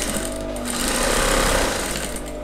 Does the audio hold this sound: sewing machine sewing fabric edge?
yes